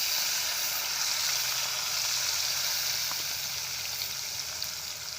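Onions sizzling in a hot pan with curry leaves and green chilli for a Gujarati gunda gravy curry, a steady bright hiss of frying throughout at close range.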